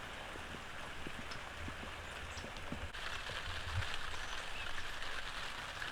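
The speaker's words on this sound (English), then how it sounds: "as you can hear, it's raining" Rain falling on the covered roof of a garden shade house, a faint, soft continuous patter with scattered light drops ticking close by, no voices.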